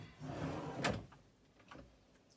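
A cabinet drawer on easy-close slides glides shut with a soft whoosh and a gentle thud near the middle, followed by faint light knocks, close to the microphone in a quiet room.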